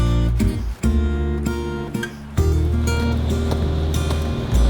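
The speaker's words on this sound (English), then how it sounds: "Yeah, we're sailing, baby." Sailboat moving at sea under sail, with a steady wash of water and wind noise along the hull and a few louder surges breaking through the continuous rush.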